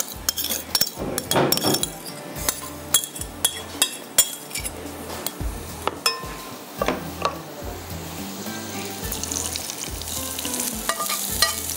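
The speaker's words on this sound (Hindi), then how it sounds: "ऊपर से तड़का दे देंगे।" Cumin and garlic tempered in hot oil for a potato raita, a busy crackling sizzle with sharp pops, metal utensil clinks and stirring, close and lively throughout with no talking.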